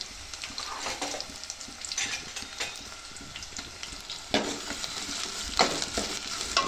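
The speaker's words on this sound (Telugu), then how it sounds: "బాగా కలర్ వచ్చేంత వరకు వేయించుకోవాలి." Chicken fries with ginger-garlic paste and turmeric in a pan, giving a constant loud sizzle with repeated stirring scrapes and occasional utensil knocks up close, and no voices.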